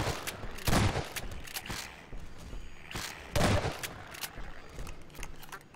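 Gunfire in Half-Life 2: several sharp shots spread irregularly over a few seconds, two of them louder and heavier, over a steady game background with no voices.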